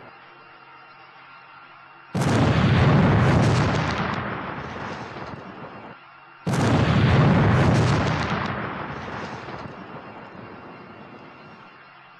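A gas cylinder explodes in a food van with two loud, booming blasts a few seconds apart. Each blast hits suddenly and then fades slowly into a long rumbling roar.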